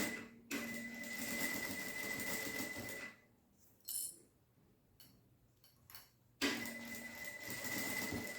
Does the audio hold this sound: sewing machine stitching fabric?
yes